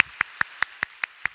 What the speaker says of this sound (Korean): 새로운 해 놀랍게 역사하실 하나님께 우리 감사와 찬양의 박수를 올려드리겠습니다